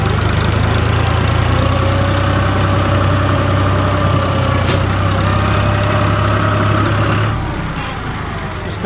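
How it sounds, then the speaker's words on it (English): A Case IH 395 tractor with a loader levelling spread stone, its diesel engine running at a steady low drone, close and continuous, dropping slightly in pitch and level toward the end. "So I'll just level it around with the loader"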